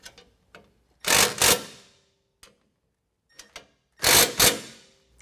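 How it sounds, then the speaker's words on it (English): A ratchet with a 15mm socket snugs factory nuts down onto threaded studs, producing two loud, dense bursts of rapid clicking about three seconds apart, with single faint clicks scattered between them, close by and free of talk. "we're going to tighten them down using a 15mm"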